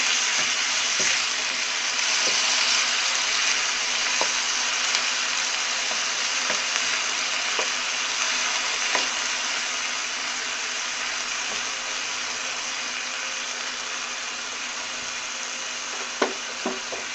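Soaked urad (mash) daal frying in a pan, a steady bright sizzle held throughout, close and even, with occasional light clicks of a spoon stirring and a couple of sharper knocks near the end.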